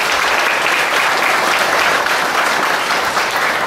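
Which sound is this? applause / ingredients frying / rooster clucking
applause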